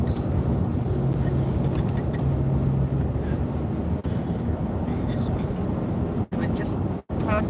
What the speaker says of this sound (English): We're just passing quite a few trucks